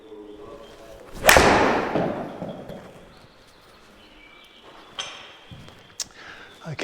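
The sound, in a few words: golf shot hit with a 4-iron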